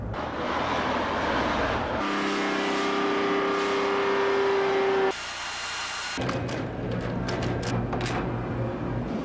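A Volvo car with a rough idle and slight misfire driving on a road test, a steady engine drone with changing tones and road noise throughout, fairly loud and close, without speech.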